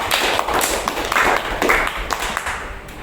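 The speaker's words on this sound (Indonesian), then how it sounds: "Tepuk tangan dulu untuk tarik" A classroom of students claps hands together in a brief burst of uneven, close slaps and taps, with scattered thumps and little talking.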